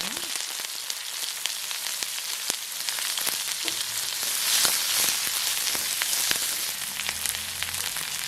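Onions fry in hot oil with mustard and fennel seeds, a steady close sizzle dotted with small pops and crackles, swelling slightly midway.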